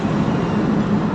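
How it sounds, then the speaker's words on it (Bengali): A train passes close by as a loud, steady rumble that fills the whole short moment, with no break and no voices. "First train."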